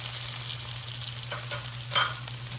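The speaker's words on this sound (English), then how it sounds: "I'm going to stir this around. Let this cook in here." Chicken cacciatore sizzles steadily in a hot pan, with a low constant hum underneath and a few soft scrapes as it is stirred around.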